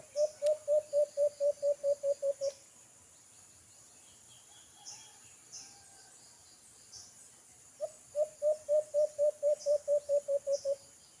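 A bird gives two rapid series of a dozen or so sharp, evenly spaced calls, separated by a quiet stretch with faint background noise.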